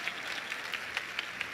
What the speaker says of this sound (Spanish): Un aplauso, hombre.